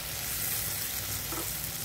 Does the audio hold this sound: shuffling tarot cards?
no